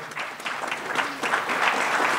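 An audience at a university seminar on conciliation claps steadily in sustained applause, a dense patter of many hands that holds without pause.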